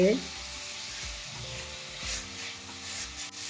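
Grated carrots sauté in a pan for carrot halwa made with milk, giving a steady, close sizzle and frying hiss with occasional stirring scrapes throughout.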